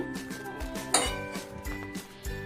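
A metal lid set down on a pot of vegetarian fried rice finished with sugar and ghee, giving a single sharp clink near the middle amid faint kitchen clatter and soft thuds.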